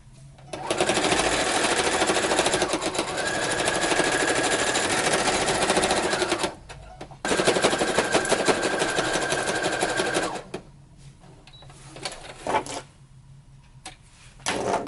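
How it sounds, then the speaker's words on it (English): A sewing machine stitches straight and zigzag seams on a replica Battlestar Galactica original-series jacket: loud, rapid, continuous mechanical whirring in two long runs separated by brief pauses, with softer handling noise after. "we're going to do 1/2 inch stitch all the way along this one solid piece, and then zigzag all the way back"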